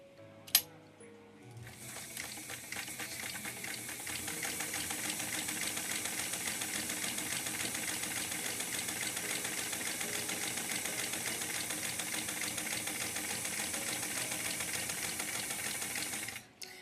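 A sewing machine stitching a zigzag seam on doll pajama pants, starting after a small click and running as a steady fast rattling buzz for about fifteen seconds before stopping.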